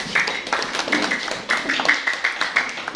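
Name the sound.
classroom applause for group 1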